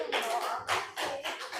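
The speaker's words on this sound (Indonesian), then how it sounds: "Tepuk tangan untuk kelompok Wahid." A classroom of students claps for a student group, a brief burst of close, dense applause lasting under two seconds.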